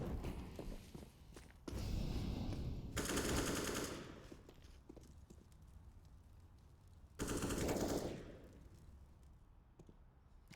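AK rifle fire in a Counter-Strike match on the Overpass map, two loud bursts of rapid automatic shots separated by quieter stretches with footsteps and soft thuds, no voices.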